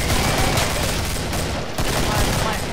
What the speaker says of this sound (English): Like a Tommy gun that shoots shotgun shells.